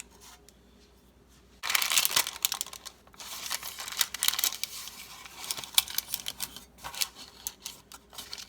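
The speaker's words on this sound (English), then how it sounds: "I'll put some parchment in there" Parchment paper crinkles and rustles in sharp, irregular bursts as it is pressed into a baking pan for an eggless, milkless fruitcake, close and fairly quiet after a brief near-silent start.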